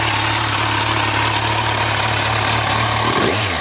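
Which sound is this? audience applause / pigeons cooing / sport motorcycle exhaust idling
sport motorcycle exhaust idling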